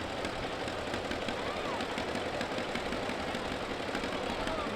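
Tractor engines idle at a 2019 Sorghum Festival parade: a continuous, close mechanical chugging with rapid knocking pulses, loud and unbroken throughout.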